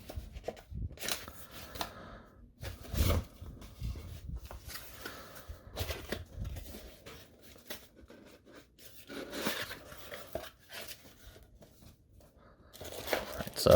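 Cardboard and packaging for a LOFREE Touch PBT wireless mouse being opened by hand, with soft scraping, crinkling and tearing rustles in irregular bursts, close and fairly quiet, without speech.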